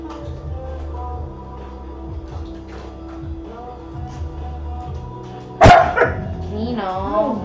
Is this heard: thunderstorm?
no